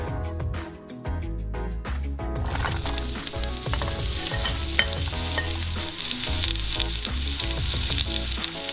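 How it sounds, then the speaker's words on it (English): Red onions sizzle and crackle in oil in a hot frying pan, with occasional stirring scrapes, close and continuous. "heat our large frying pan with about 1 tablespoon of oil and saute our red onions"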